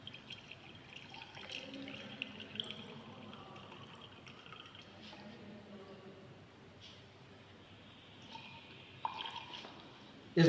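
Diesel trickles and drips into a brass cup for a flash and fire point test, a soft, steady liquid pour with small splashes and drips, fairly faint and close, with brief clinks near the end.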